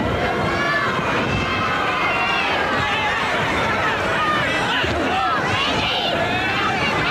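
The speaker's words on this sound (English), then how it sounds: "You hear the crowd yelling for Randy Savage to come and help Lawler." A wrestling arena crowd yelling and roaring steadily for several seconds, a dense wall of loud massed voices with shouts rising out of it, no pauses throughout.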